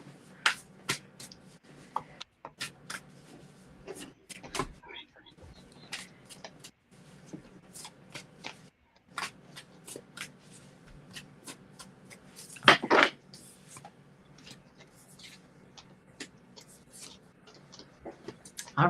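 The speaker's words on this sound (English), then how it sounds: "Let me do a couple more shuffles then." Tarot cards are shuffled in short, soft riffling bursts spread across a quiet room, with one louder flurry partway through and occasional faint speech.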